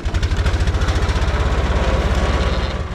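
A farm tractor engine runs steadily close by, its rapid rhythmic chugging loud and even for a few seconds with no talk.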